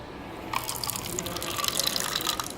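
Water running from a public drinking water tap at an outdoor event, a close steady trickle and splash starting after a brief quiet moment and continuing to the end.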